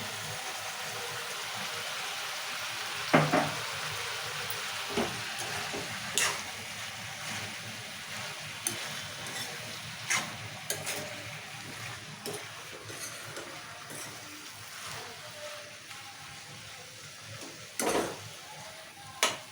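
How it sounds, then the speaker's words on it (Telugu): Tomatoes and green chillies cook in a pan with salt and turmeric, giving a steady close sizzle broken by repeated stirring scrapes and occasional utensil knocks against the pan. "సో ఇవి టమాటాలు మిరపకాయలు అనేవి బాగా మగ్గేంత వరకు ఉడికించుకుందాం"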